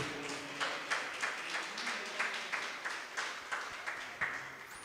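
A church congregation claps steadily in a regular, rhythmic beat at moderate distance, each clap sounding as a sharp burst over a low, continuous background.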